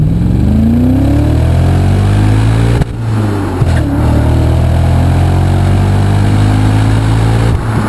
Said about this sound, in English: Nice strong power though, a 5-liter V8 engine you have here, naturally aspirated